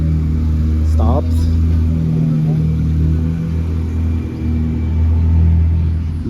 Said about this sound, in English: We are driving down Gulf Shore Boulevard in Naples just to have a look at these beautiful houses